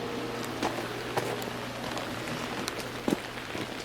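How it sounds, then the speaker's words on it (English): Steady rain falls outdoors behind a backyard pool, a constant patter with a few sharper drops and knocks standing out, moderately loud and without speech. "See the rain's coming down."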